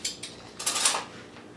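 Metal spoons being gathered from a kitchen drawer, a few quick clinks and rattles of cutlery in close succession, brief and near.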